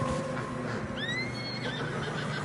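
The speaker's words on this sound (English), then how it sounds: "Horses are struggling." A horse neighs in Red Dead Redemption on a narrow trail through fresh snow. It gives one clear rising whinny midway, with a shorter call after it, over a steady low background of wind and hoofsteps.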